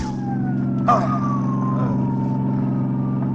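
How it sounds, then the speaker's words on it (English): An ambulance siren wails in a radio drama scene, a loud close tone sliding slowly downward over engine rumble, with one brief knock near the start and no voices. "Folsey, tell the driver to stop this ambulance."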